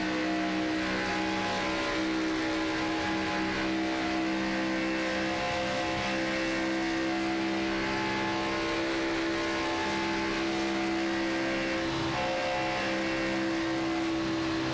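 Race cars lapping an oval track in the Crosby 175 stock car race, a steady blended engine drone from a pack of 31 cars running close together, continuous and fairly loud with no talk.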